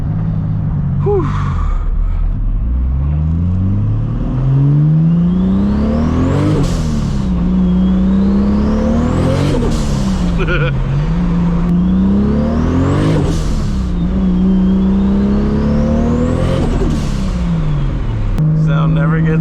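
A 1000-horsepower MKIV Toyota Supra pulls hard through the gears, each rising engine howl climbing then dropping at the shift, repeated several times, loud and close from inside the car.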